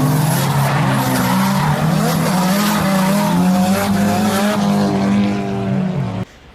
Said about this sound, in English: he's drifting my old 240 SX